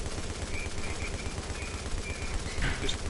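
Gunfire from The Division video game rattles in rapid, continuous bursts at moderate loudness, with a sharper shot cutting through near the end.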